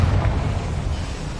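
A Confringo blasting spell explodes in Hogwarts Legacy, a low rumbling boom that starts strongly and then decays into a sustained, muffled roar lasting about a second and a half.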